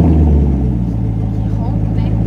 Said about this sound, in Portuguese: vou ligar o carro pra você ouvir o barulho dele